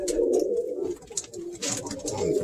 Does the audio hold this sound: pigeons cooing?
yes